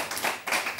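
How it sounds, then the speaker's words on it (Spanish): A television show audience applauds a performer with a short burst of dense, crackling clapping that stays steady and close. "Un aplauso para Darío, por favor."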